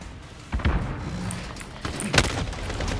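Grenade explosions in a Call of Duty match land as two booming blasts amid ongoing gunfire and game effects, fairly loud and close, with no talking over them.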